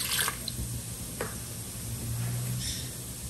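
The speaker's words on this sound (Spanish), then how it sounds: "En la licuadora vamos a agregar media tacita de agua" Water trickles and drips into a kitchen blender, a quiet faint pour with soft splashes over a low background hum.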